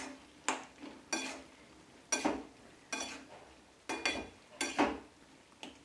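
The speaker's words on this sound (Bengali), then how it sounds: "চিনিটা দিয়ে ভালোভাবে এটা মিশিয়ে নেব।" A spoon scrapes and knocks in a pan as sugar is stirred into a bottle gourd and prawn curry, with about eight sharp strokes at an uneven rhythm and a soft simmer beneath.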